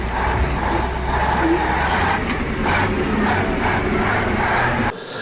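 Ural 4320 6x6 military truck driving, a steady broadband engine and road roar held loud and close throughout, ending in an abrupt drop near the end.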